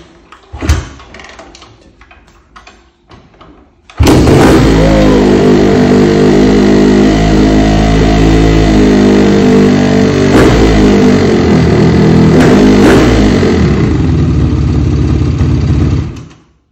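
A motorcycle engine, being repaired at home, coughs to life after a few faint clicks, then runs loud and close with a steady rumbling idle and slight revs for about twelve seconds before cutting off.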